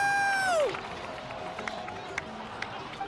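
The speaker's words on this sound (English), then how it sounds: "Let's give a huge round of applause to our brave young warrior, Kachina!" Crowd cheering and applauding for a returning young warrior in the video game Genshin Impact, a lively bed of cheers and claps under a bright chime, fairly quiet and steady.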